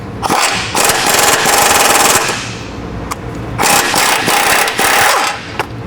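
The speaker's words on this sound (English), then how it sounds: "So 18mm socket, use your impact." An impact wrench with an 18mm socket hammers off the nuts holding the front bumper on a JK Wrangler. Loud, close bursts of rapid rattling are broken by short pauses and sharp clicks.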